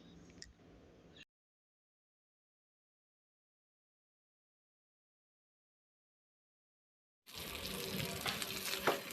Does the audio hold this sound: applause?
no